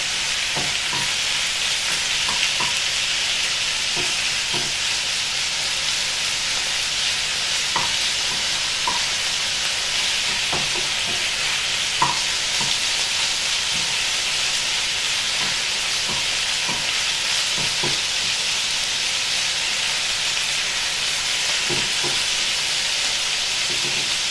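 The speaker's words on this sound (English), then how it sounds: "So while your chicken's starting to cook there" Chicken frying in rapeseed oil in a pan, a steady close sizzle with scattered small pops and crackles throughout, no talking.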